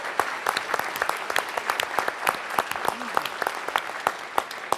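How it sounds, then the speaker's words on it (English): An audience gives a round of applause for the MLK Freedom Center at a civil-rights gathering: moderately distant, evenly sustained clapping with individual sharp claps standing out, a few voices mixed in. "So give the MLK Freedom Center another round of applause"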